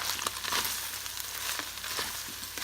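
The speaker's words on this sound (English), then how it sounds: "So I've thrown the onions in." Chopped onions hitting a hot pan of already cooked ground meat for keto chili, giving a steady, close, bright sizzle with small crackles and a few stirring scrapes throughout.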